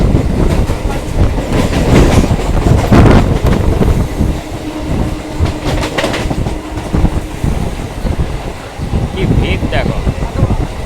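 A Katwa to Howrah galloping local train rolls into Liluah station with loud, continuous rumbling and rhythmic clickety-clack of wheels over rail joints, with a voice talking over it and a few brief high chirps near the end.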